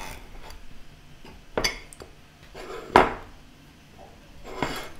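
Knife cutting through a bakery crêpe on a plate, quiet clinks and scrapes of metal on crockery, three distinct taps spaced a second or so apart against a soft background.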